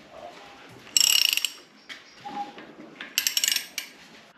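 A Honda K24 engine with no oil in the cylinder, its crank turned by hand, gives off dry metallic ratcheting clicks in two short bursts about two seconds apart, close and fairly faint, with no speech.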